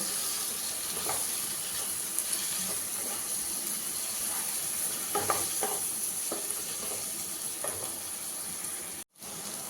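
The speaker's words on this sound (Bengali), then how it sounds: "এবার এটাকে ভালো করে ভাজা হতে দেব।" A yogurt and spice mixture fries in a pan with whole spices for shahi paneer, giving a constant loud sizzling hiss with occasional stirring scrapes and a brief dropout near the end.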